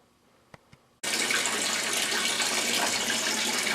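Two small clicks, then water suddenly gushes into an aquaponics system as it is switched on, a loud steady rushing splash that holds without pause.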